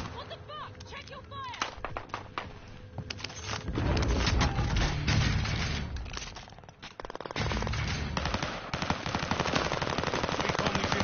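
Gunfire in a Call of Duty video game: dense automatic bursts and rapid shots, loud and sustained, with brief lulls between volleys and game voices faintly mixed in.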